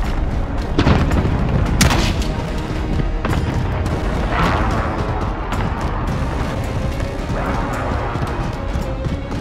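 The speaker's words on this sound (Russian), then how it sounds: "Начинаю обстрел кассетными минами." Cluster munition airstrike in Call of Duty: Warzone: a rapid string of heavy explosions and crashing impacts rolls on without pause, loud and close, with sharp cracks breaking through the rumble.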